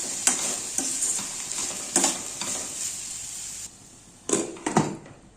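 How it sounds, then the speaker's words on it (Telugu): Onions and chillies frying in a pan give a steady close sizzle, broken by a few louder bursts of stirring and scraping, then briefly quieter near the end before more stirring clatter. "ఆనియన్స్, చిల్లీస్ ఆటోమేటిక్గా ఫ్రై అయిపోతాయి"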